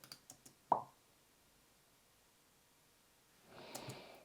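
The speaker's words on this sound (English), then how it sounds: "So I'm looking for a pop effect." A single short pop sound effect from CapCut's editing library, crisp and close, preceded by a few soft ticks and followed later by a quiet breathy rustle.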